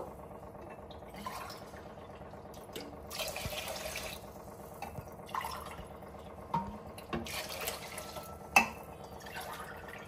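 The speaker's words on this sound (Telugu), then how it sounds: "4 గ్లాసుల వాటర్ పోసుకుంటున్నాను ఈ గ్లాస్తో." Water poured from a glass into a pot of soaked dal and rice for home-made dal khichdi, a steady splashing trickle with a few louder plops, close by with no talking.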